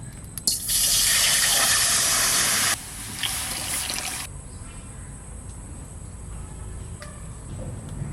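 Water poured into a hot cooking pan of fried spices: a loud, close rush of pouring for about two seconds, then a softer gush that fades to a quiet simmer.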